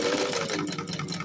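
A domestic sewing machine stitching a short run forward then backward to lock a seam on a fabric wipes pouch, a close, steady mechanical whir lasting about a second.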